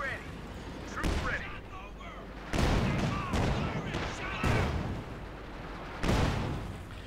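Gunfire and shelling hammer an anti-tank gun in the Company of Heroes 2 strategy game, several loud bursts and blasts spaced irregularly over battle noise.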